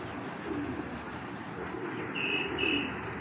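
A big male Pakistani Kamagar pigeon coos softly at close range: a couple of low, rolling calls over a steady background hum, with a brief higher tone midway.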